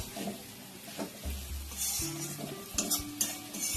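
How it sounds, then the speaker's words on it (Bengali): Spice paste and potatoes stir-fried in a pan for crab curry, cooked in a dark kitchen during a power cut, with close scraping of a spoon against the pan over a soft sizzle, with a few louder clanks. "মশলাটা আলু দিয়ে আমার খুব ভালো করে কষা হয়ে গেছে"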